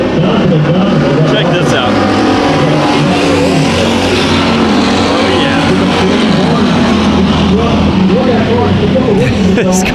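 Stock race car with a flat right front tire lapping Bakersfield Speedway, its engine a loud, continuous roar rising and falling through the turns while someone talks over it.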